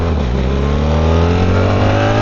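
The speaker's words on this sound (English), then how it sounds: "that engine is incredible" A BMW R1300 GS Adventure motorcycle engine revs loud and close, one sustained climbing drone with rising harmonic tones and no talk.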